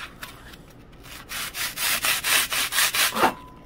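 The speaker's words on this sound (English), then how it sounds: "With 80 grit, it sands pretty good" Block foam is rubbed with 80-grit sandpaper in a rapid series of about ten rhythmic back-and-forth scrapes, close and fairly loud, following a quieter stretch of light rubbing.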